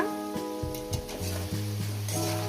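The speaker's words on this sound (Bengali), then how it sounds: "আলুটা এইভাবে ভাজা হচ্ছে হালকা হালকা লাল হয়েছে" Steady sizzling of potatoes frying in hot oil until lightly browned, with occasional stirring clatter over a constant low background hum.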